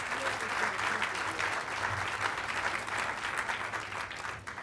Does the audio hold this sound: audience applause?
yes